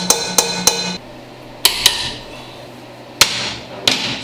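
An air hammer taps against a pinion on a Dana 44 axle with 4.11 Yukon gears, giving sharp, ringing metallic strikes in short bursts of two or three with pauses between them, loud and close.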